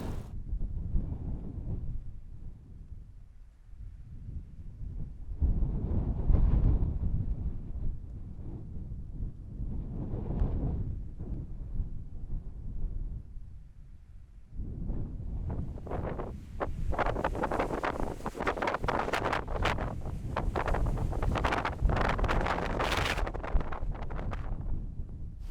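Strong wind gusts outdoors in a sheltered hollow beside a tent, buffeting the microphone in loud, uneven rushes that swell and ease, then build to a rougher, sustained roar.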